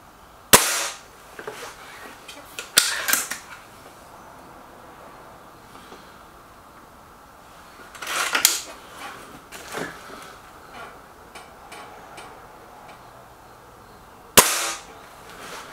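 A Gamo Whisper Sting air rifle fires at a target, producing several sharp, isolated cracks spaced seconds apart, each with a faint tail, against quiet surroundings.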